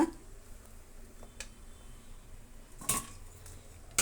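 Cooked tomatoes are tipped into a metal pot while making sambar with ridge gourd. Two faint, brief metallic clinks come out of an otherwise quiet kitchen background.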